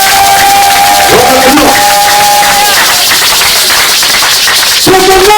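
A church congregation cheers and acclaims Jesus, a dense crowd roar with clapping and shouts filling the whole stretch, loud and continuous, with a voice leading over it.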